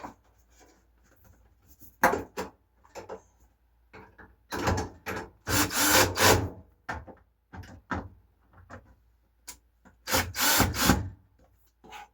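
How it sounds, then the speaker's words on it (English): Screws being driven into the moisture sensor of a Samsung clothes dryer, heard as several short scraping, rubbing bursts of metal and plastic handling at close range, with quiet gaps between and no talking. "Get these screws started."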